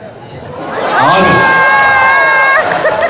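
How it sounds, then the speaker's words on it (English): An audience at a contest cheers loudly, with shouts, whoops and excited children's voices swelling into a close, sustained roar. "Give it up a big round of applause to Mr. Tamil."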